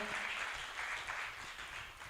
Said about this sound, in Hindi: एक बार जोरदार ताली बजा के आपका स्वागत करें।